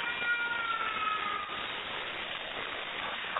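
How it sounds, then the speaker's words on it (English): A harsh, strained, cat-like screech from the horror video game Sara Is Missing plays continuously for several seconds, shrill and noisy with a wavering pitched whine, fairly loud and without talking. "it sounds like a cat being strangled"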